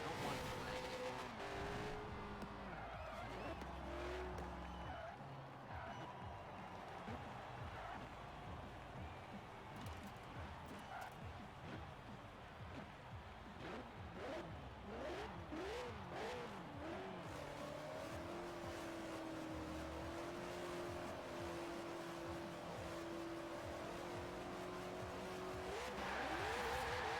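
Cars race in the video game Forza, with engines droning and rising as they accelerate, tires squealing and skidding at moments, all held steady at a moderate level through a long stretch.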